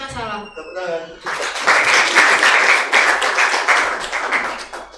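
Audience applause in a classroom teaching session, a voice speaking briefly before dense clapping starts and continues steadily, fairly close and moderately loud.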